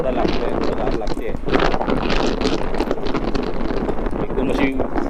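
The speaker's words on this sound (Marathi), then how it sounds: "वारा थोडा लागतोय, थोडं गार लागते" Wind rushing past the microphone on a motorbike ride along a tree-lined road, a loud, continuous buffeting roar with someone talking over it.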